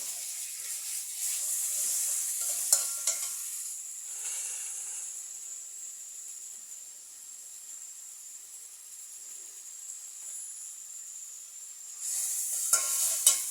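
Garlic paste sizzles with chicken in a pan over a brick stove, a steady hiss holding throughout with brief louder bursts of stirring near the start and end, close and moderately loud with no talk.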